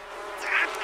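Buzzing bees in the life-simulation game The Sims 4, a short droning hum that swells midway and rises again at the end, heard alone.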